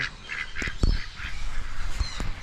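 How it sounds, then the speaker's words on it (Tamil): Ducks call at a bird park in Yelagiri with repeated nasal honks and quacks, several bursts close together over a light background, plus a few sharp knocks. "நார்மல் வாத்து பார்த்துருக்கீங்க, மயில் வாத்து பார்த்துருக்கீங்களா?"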